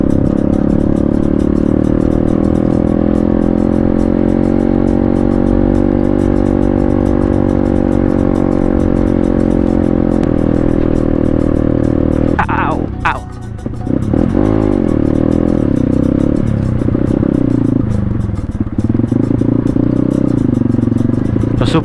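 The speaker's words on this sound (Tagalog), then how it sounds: "biglang nagbago yung andar ng motor ko ah" A motorcycle engine runs steadily as it climbs a high-elevation backroad in Porac, Pampanga, with a strong continuous hum and a brief clattering disturbance midway, riders talking over it.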